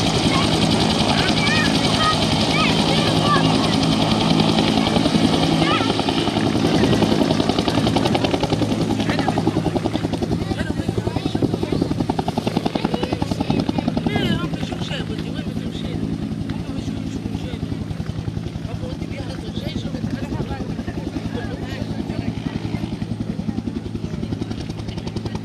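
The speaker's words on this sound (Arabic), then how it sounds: "طائرة عسكرية تونسية تحط بالمكان." A Tunisian military aircraft setting down, heard as a loud, steady rotor-like engine roar that holds throughout and eases slightly in the second half, with voices talking over it.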